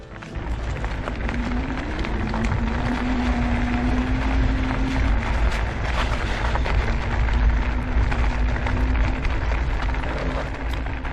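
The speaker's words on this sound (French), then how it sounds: "Je vais essayer d'accélérer maintenant et voir si la roue tourne dans le vide." Studded tires spin on ice as a car accelerates, a loud continuous broadband roar and rumble with a rising-then-steady whine running underneath throughout.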